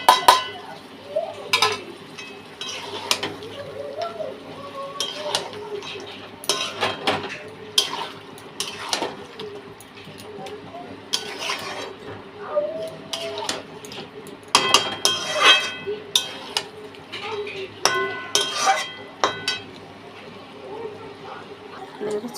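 Chicken and spices are stirred and sautéed in a pan for a potato chicken curry, with a utensil scraping and clinking against the metal in irregular bursts, close by, while a person talks throughout.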